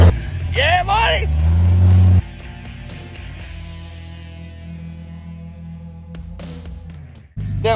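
An off-road vehicle climbing terrain in Moab, its engine a steady low drone throughout; a loud shouting voice rises over it at the start, and the engine note drops and steadies after about two seconds.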